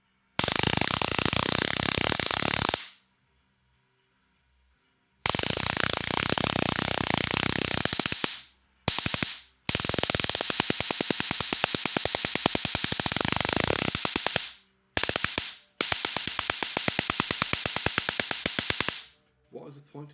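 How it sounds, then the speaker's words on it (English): Loud, harsh hissing and crackling bursts from oxygen ionizing around a high-voltage electrical discharge experiment, coming in several long sustained blasts separated by short silent gaps. "you can actually hear the gas, the oxygen ionizing"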